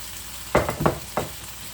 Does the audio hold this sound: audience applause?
no